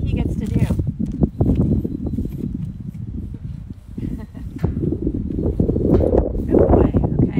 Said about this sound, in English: I know it's kind of windy